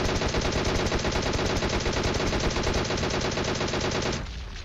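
Rapid automatic gunfire from the mobile battle-royale game PUBG Mobile, a dense, loud, continuous burst of rattling shots with no talk, cutting off sharply near the end.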